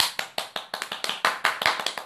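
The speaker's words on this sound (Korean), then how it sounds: "제가 박수를 쳤는데" Two people clap their hands together in a quick, steady series of sharp claps, about a dozen in two seconds, close and fairly loud with no talking.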